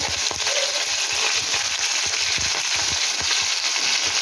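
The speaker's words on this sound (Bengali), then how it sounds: "তেলে দিয়ে শুটকি মাছটা ভালো করে ভেজে নেব।" Dried fish frying in hot oil, a loud continuous sizzle with irregular crackles and pops, close and alone.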